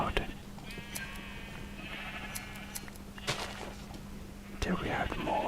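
Several sheep bleat in a video game as they are sheared, with wavering cries in quick succession over a steady low hum, close and moderately loud, and a few clicks at the end.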